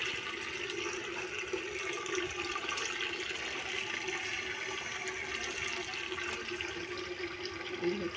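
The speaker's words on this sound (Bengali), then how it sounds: "মোটামুটি বালতিতে জল পড়ে এসছে।" Tap water pours steadily into a bucket, a continuous close rushing splash that holds at an even level throughout with no talking.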